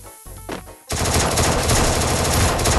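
Sustained automatic gunfire from a Free Fire battle, a short burst and pause followed by a loud, dense, continuous stream of rapid shots filling the rest of the moment, with no talking.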